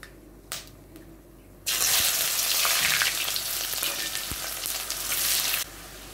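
Chopped onion tipped into hot oil in a pan for kosha mangsho bursts into a loud, steady sizzle that runs for several seconds after a quieter start, with occasional faint clicks, close by.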